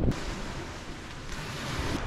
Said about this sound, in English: it's a little windy out here still.